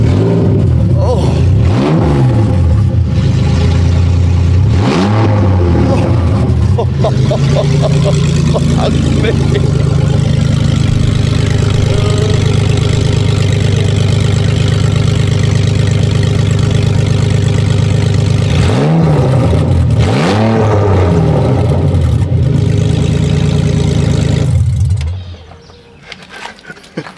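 A GM LS V8 car engine revs hard and loud nearby, with repeated rising throttle blips over a sustained rumble, then cuts off near the end.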